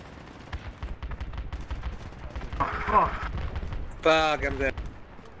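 Gunfire from a firefight in the military shooter game Project Reality, heard as bursts of rapid shots with sharp distant cracks throughout, punctuated by two louder nearer volleys, with voices talking over the shooting.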